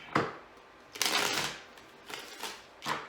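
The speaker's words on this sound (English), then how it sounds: "let me shuffle these cards." Tarot cards being shuffled by hand close by, several bursts of riffling and sliding with short pauses between them, with no talking over the sound.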